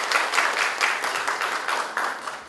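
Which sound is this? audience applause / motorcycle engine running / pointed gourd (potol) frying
audience applause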